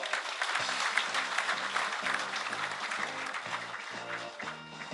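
A crowd at a union award ceremony gives sustained, full applause, a dense even clapping that carries on throughout while music plays faintly beneath.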